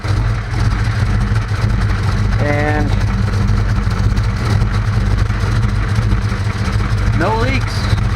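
A Chevelle engine idles steadily with a deep, throaty exhaust rumble, close by, while someone speaks briefly over it.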